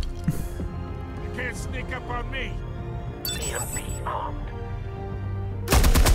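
AK-47 fire in the Batman Telltale Series game ends the moment as a sudden loud rapid burst, following game sound effects and a player's excited talking.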